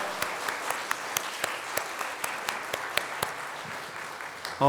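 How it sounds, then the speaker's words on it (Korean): A church congregation claps during a Sunday morning service, a thin, scattered patter of hands with sharper individual claps standing out, steady over a few seconds before a louder sound cuts in at the end. "우리 모두를 축복하며 다 같이 감사합니다 박수하겠습니다"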